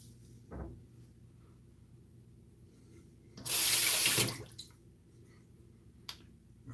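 A kitchen or bathroom tap runs briefly as something is rinsed at the sink, a steady, fairly loud gush lasting about a second, with faint clinks and handling noises before and after.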